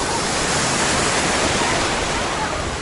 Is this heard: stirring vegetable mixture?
no